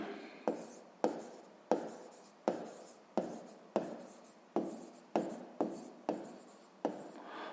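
Handwriting on paper while working a sixth-grade math exercise, a steady series of about a dozen quick pen strokes and scratches in an even rhythm, close and quiet, with no talking.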